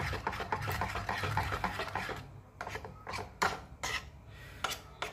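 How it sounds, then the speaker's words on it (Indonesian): Thick fried cassava tape batter being stirred in a bowl, a rasping, scraping rub that runs dense at first, then breaks into separate strokes, close and moderately loud with no talk. "Diaduk terus"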